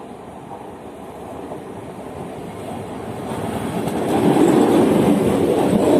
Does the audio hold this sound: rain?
no